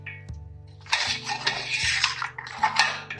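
Curd stirred into mutton in a metal pot over a low flame makes close, repeated scraping and clinking of a spoon against the pot in uneven strokes, heard alone.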